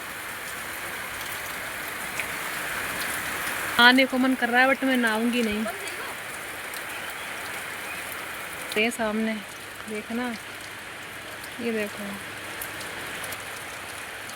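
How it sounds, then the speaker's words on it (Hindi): Heavy rain pours steadily on a rooftop in a constant dense hiss throughout, with someone speaking over it in short bursts. "तेज बारिश हो रही है। ये देखो कितनी तेज हो रही है बारिश।"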